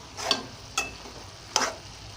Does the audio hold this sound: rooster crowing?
no